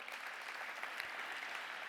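Steady applause fills a hall at an awards ceremony, a dense even patter of many hands clapping, fairly faint and distant, with no voices over it.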